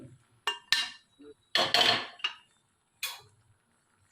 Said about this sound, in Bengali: দিয়ে ভালো করে আমি এটা ঘেটে নেব